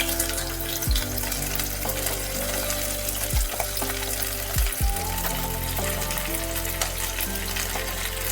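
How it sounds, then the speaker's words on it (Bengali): Okra frying in hot oil, a steady loud sizzle with a few sharp bursts as pieces hit the pan, no voices over it. "তেল গরম হবার পর ঢ্যাঁড়সগুলো কিন্তু তেলের মধ্যে দিয়ে দিতে হবে"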